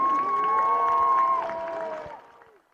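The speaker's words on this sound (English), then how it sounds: "Let's give it a big round of applause for one more time for all the seniors." At a high school soccer senior night, a crowd claps and cheers for the seniors, with a sustained tonal horn-like sound and voices over the applause before it fades out near the end.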